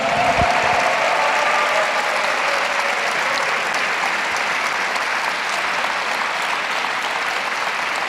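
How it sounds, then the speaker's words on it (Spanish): A church congregation claps hard in a sustained, even round of applause that stays loud and steady from start to finish, with no voices standing out over it. "Fuerte ese aplauso."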